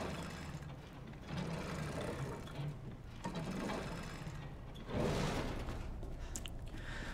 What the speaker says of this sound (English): we use the crank that we just got from the jail here